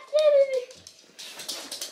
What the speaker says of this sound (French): ça c'est le chien qui devient fou, à chaque fois que ça sert